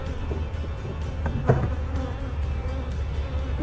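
A steady, close insect buzz hums throughout, many bees droning together around a hive as a nucleus colony is installed into woodenware, with a faint tap partway through.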